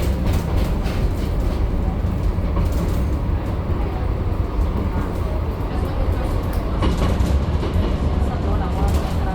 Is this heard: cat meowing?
no